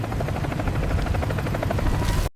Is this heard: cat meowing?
no